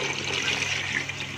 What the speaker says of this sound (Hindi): हमारी 1 पाव दाल है तो इसमें हमने 3 गुना जो है पानी ऐड कर देना।